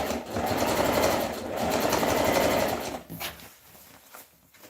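A sewing machine stitches fabric for a gathered skirt in a close, loud, steady run of rapid needle chatter that pauses briefly, then stops, leaving quieter room noise.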